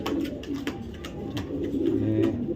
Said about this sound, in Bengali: ডিআর পিএফসি ক্লাবের একটা নর কবুতর